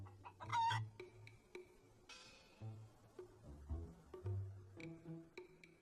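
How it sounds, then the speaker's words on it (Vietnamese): Three domestic chickens cluck in an animated scene, with a run of short, close clucks and squawks in bursts with brief pauses, loud and clear with no talking. "đây chỉ là 3 con gà nhà bình thường nhưng sức sống mãnh liệt"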